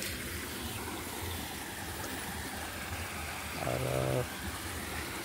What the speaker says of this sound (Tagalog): Ito yung sapa oh.